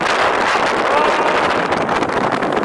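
Strong wind blowing steadily outdoors at an autumn forest campsite at dawn, a loud continuous broadband roar buffeting the microphone with no pauses.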